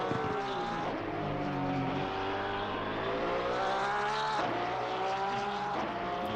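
Onboard engine of the number 144 Porsche GT race car lapping Spa-Francorchamps in a sim racing league, a loud continuous whine rising and falling through gear changes, with a steady low drone and no talk.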